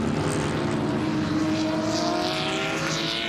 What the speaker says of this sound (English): Some beautiful flying from our helicopter pilot